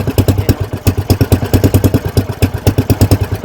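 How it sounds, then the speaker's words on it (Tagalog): A malfunctioning boat engine sputters and misfires at close range in an uneven, rapid chugging rhythm, with no talk over it. "So nagluloko ang makina,"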